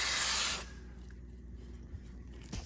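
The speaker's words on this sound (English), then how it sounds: "Let's get the chain cleaner, and what I'm going to do is spray this one section." A short, loud burst of aerosol chain cleaner sprayed onto one section of a motorcycle chain hisses for about half a second, then cuts off, leaving quiet room noise.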